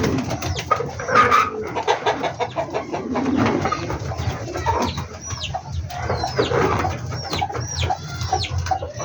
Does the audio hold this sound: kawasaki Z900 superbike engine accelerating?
no